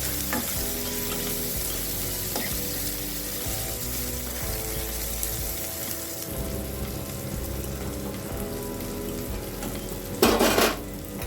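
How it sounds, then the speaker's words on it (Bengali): Chopped banana flower fries in a kadai with turmeric and salt, giving a steady close sizzle for several seconds before a brief scrape of stirring near the end. "এবার আমি কিছুটা হলুদ এবং লবণ দিয়ে দিচ্ছি তারপরে আবার আমি হালকা করে ভেজে নিচ্ছি"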